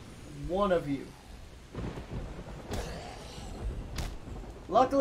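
A thunderstorm in the survival game Project Zomboid, with short rumbling thunder and rain-like crackles under a voice heard at the start and end.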